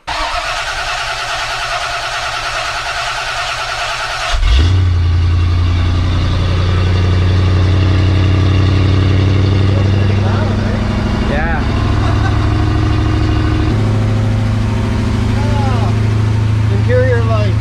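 A V8 Mercedes engine fitted with exhaust baffles, two per side ahead of and behind the muffler, cranks and fires into a loud, steady deep idle that holds close by, with a few faint squeaks over it.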